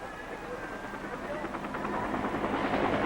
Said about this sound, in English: Hour after hour, helicopters continued picking up loads of evacuees.